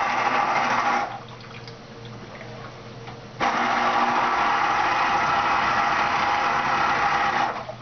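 Small electric citrus juicer for oranges, bought cheaply at Target, runs with a steady motor whir that stops briefly and then resumes, loud and close, with no talk.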